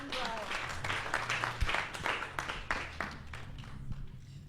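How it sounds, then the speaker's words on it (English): Audience applause for Gwen and the panel at a SACO and Concerts SA jazz evening, a fairly quiet wash of many hands clapping with a voice talking over it. "Let's give Gwen and the panel a round of applause."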